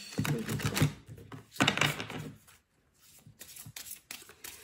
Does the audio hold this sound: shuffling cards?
yes